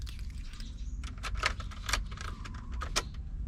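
A key jangles and turns in the ignition of a campervan under repair, giving a few sharp metallic clicks and rattles over a low steady rumble, close and moderately loud.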